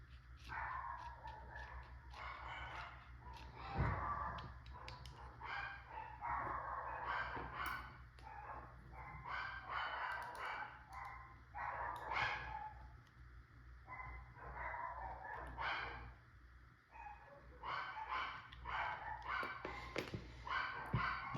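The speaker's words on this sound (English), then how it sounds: "Dogs are barking like crazy." Several dogs barking repeatedly in the distance, an irregular stream of overlapping barks and yips over a low steady hum, with no talking.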